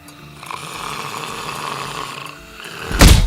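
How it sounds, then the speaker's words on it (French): Soft, gentle snoring from a sleeping person, a steady low breathy rasp that runs on for a few seconds before a louder burst of noise near the end. "c'est du petit ronflement, c'est doux, c'est soft"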